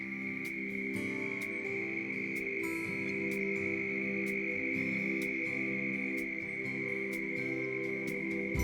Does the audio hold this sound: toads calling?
yes